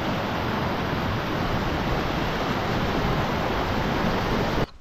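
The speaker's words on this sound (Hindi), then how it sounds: "झरना बह रहा है यहाँ पे" A waterfall in a Himachal village rushes in a dense, steady roar of broadband noise, loud and continuous, with no voices, ending abruptly.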